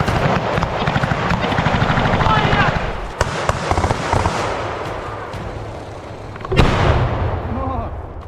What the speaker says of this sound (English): Grenades fly in Russian trenches, one after another.